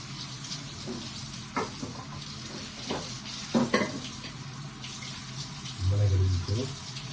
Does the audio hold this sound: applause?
no